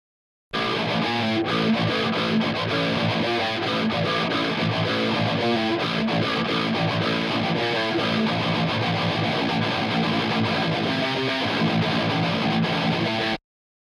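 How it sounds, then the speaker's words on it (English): Heavily distorted metal guitar riffing plays through a Recabinet 4 Mesa Rectifier cabinet impulse at shipping settings, dense and loud with chugging palm-muted rhythm lasting about thirteen seconds, with no talking. "The Mesa rectifier cabinet of Recabinet 4 sounds like this in its shipping condition."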